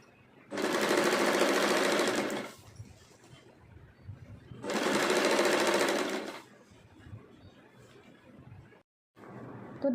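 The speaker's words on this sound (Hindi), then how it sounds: "इसमें ऐसे जिप को रखते हुए हम ऐसे स्टिच कर लेंगे इस तरीके से।" A sewing machine stitches a zip onto a multi-purpose organizer bag in two loud, steady bursts of rapid whirring, with quiet handling sounds in the pauses.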